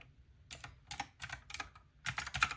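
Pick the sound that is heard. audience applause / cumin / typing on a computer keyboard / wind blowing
typing on a computer keyboard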